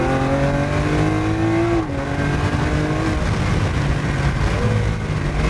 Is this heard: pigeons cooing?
no